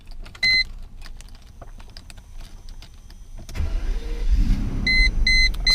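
A 1997 Mercedes S600 coupe engine cranks and catches, settling into a steady rumbling idle, with a few electronic chimes and clicks around it.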